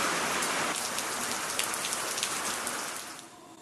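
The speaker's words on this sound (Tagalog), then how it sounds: "Rain! Good for soup!" Steady rain pours down on an outdoor surface, a dense continuous hiss of many drops that holds loud throughout and eases slightly at the very end.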